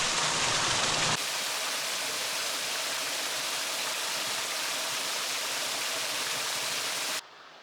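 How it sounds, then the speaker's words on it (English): A waterfall re-emerging in a canyon long submerged under a reservoir roars as a steady, dense broadband rush, loud and continuous throughout, ending abruptly near the close. "I think we might have another re-emerging waterfall here."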